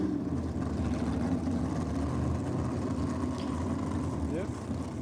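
Engine noise from a nitrous-assisted 410 cubic inch Chevy drag racing car, a steady loud rumble that stays continuous and dense throughout, with crowd and track ambience mixed in.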